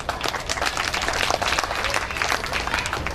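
An audience at an officers' club autumn festival poetry recital claps steadily, a dense continuous wash of applause from many hands throughout, with no speech over it.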